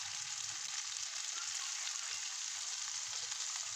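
Turmeric and asafoetida powders stirred into hot frying oil with curry leaves, a steady close sizzle with faint low scraping throughout, no voices.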